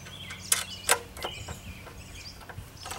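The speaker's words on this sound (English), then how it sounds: "Put your wing nut in." A wing nut being fitted onto the notched handle of a Ryobi 11-inch electric tiller cultivator gives a few faint clicks and creaky metal-on-plastic rubs, sparse and close, with no talking.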